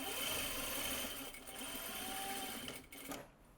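Sewing machine stitching fabric for flowy bloomers, a close, steady, rapid mechanical whir running almost continuously with a brief slowdown near the end.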